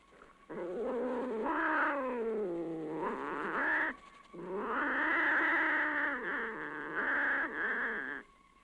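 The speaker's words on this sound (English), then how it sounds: "Does she have all the instincts of a cat?" A cat yowls in two long, loud, wavering caterwauls separated by a brief pause, close by with no other sound around it, in a 1963 horror sci-fi film.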